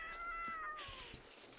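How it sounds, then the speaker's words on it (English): Cats meow and yowl while fighting in The Sims 3, a few drawn-out cries sliding downward in pitch, fairly quiet, with faint scuffling and no talk. "Oh, he's apparently mates with a cat named Lark. Okay, they're fighting"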